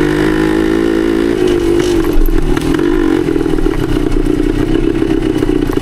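Loud and close, a 1972 Yamaha DT2 motorcycle engine chugs steadily under load in third gear, a low, even rumble that swells slightly midway and carries on without break, with no voices.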